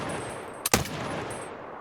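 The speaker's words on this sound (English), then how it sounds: "So I think it's kind of weird that RFB has a distinctive click and then a bang." RFB rifle in Escape from Tarkov fired once: a brief click followed immediately by a sharp loud bang, set against steady background noise with no talk.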